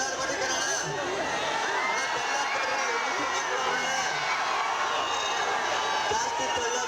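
A dense crowd with schoolchildren cheers and shouts slogans for Gilli of Bigg Boss Kannada Season 12, a steady roar of overlapping voices and whoops throughout.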